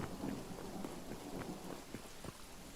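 Quiet, steady rainfall in the game Hytale, a soft constant hiss with scattered faint drop-like patters and a low rumble underneath.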